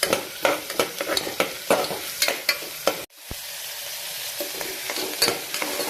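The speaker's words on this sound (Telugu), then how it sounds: "ఆనియన్స్ ఫ్రై చేస్తాం." Onions fry in a pan for a Telugu dondakaya (ivy gourd) curry, a steady close sizzle punctuated by repeated scraping stirs in the first half, then a smoother continuous frying hiss.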